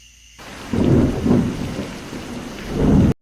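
Cartoon rainstorm with steady rain on surfaces and swelling rumbles of thunder, loud and close, building in bursts before cutting off abruptly.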